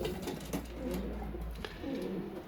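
Domestic pigeons coo softly in a low, repeated murmur, fairly close by, with a light rustle of birds moving and no talking.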